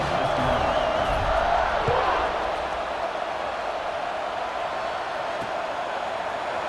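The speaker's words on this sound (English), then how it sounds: "this crowd is buzzing after that last score" A football stadium crowd keeps up a steady, broad roar after a score in a game against Vanderbilt, with a sustained wash of noise and faint voices mixed in.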